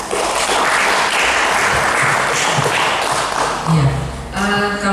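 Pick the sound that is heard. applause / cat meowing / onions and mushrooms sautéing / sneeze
applause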